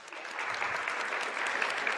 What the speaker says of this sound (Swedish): Ja, en applåd.